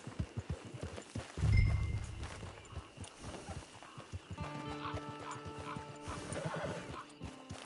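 In a video game, a horse gives a loud whinny while hooves clip-clop steadily nearby on the ground. Thuds and ambient game sounds play alongside it.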